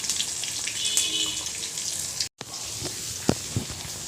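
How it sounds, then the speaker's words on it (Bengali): Chopped onions and tomatoes fry in a pan for a curry, giving a steady close sizzle with a few clinks and a brief break partway through. "টমেটো পেঁয়াজগুলো ভাজাভাজি হয়ে গিয়েছে"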